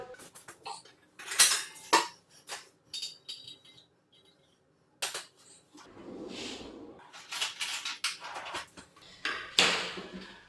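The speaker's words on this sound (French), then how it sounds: "Donc on va prendre d'abord un petit bol." A small bowl is taken out from among dishes in a kitchen, with sharp clinks of ceramic and cutlery in scattered bursts, separated by short pauses and followed by softer rustling and clattering near the microphone.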